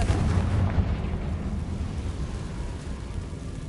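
Confringo spell explosion in a wizard video game: a loud, deep, rumbling blast that rolls on and slowly fades over several seconds, close and heavy in the low end, with no talking.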